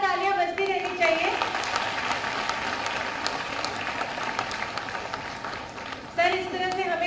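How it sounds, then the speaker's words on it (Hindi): Steady applause from a large audience at a public health campaign event in Gorakhpur, a dense wash of clapping lasting several seconds, with brief speech over a loudspeaker at the start and end. "जोरदार तालियां बजती रहनी चाहिए।"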